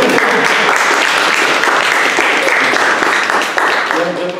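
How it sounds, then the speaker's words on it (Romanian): An audience at a Toastmasters club speaking event applauds with steady, dense clapping that stays loud and close throughout. "aplaudă"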